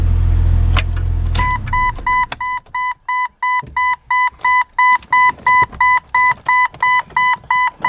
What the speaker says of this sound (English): Why is this thing deciding to just keep beeping?